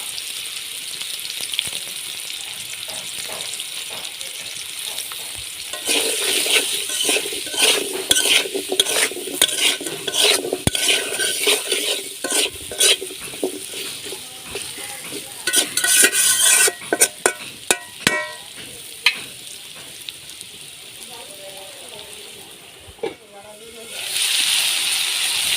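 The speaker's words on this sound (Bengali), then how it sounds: "আলু লাল লাল করে ভেজে নিয়েছি" Potatoes with salt and turmeric fry and sizzle in a pan while being stirred, with steady hiss and repeated scraping clatter, close and fairly loud, with faint intermittent voices.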